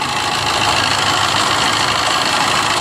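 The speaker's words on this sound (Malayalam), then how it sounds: "കണ്ടോ എഞ്ചിൻ്റെ സൗണ്ട് ശ്രദ്ധിച്ചോ." A Maruti Swift Dzire engine idles with a reported abnormal noise and a coolant leak, giving a loud, steady, close mechanical drone that holds without a break for the whole stretch.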